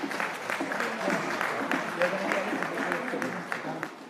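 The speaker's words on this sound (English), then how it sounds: "A round of applause for her, please." Audience applause at a work and productivity summit, a moderate, fairly distant patter of clapping across a conference hall that continues evenly throughout and eases slightly toward the end.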